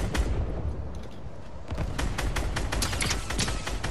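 Gunfire in the battle royale game Fortnite crackles in quick, uneven bursts of shots, including a rifle firing repeatedly, sharp and fairly close with no pauses.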